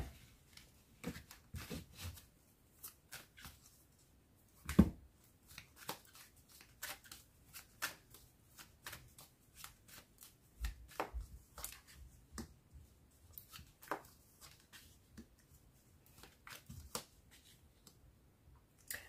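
Tarot cards are shuffled and handled for a reading, producing soft, irregular riffles and snaps scattered across a quiet background, close and faint with occasional sharper clicks.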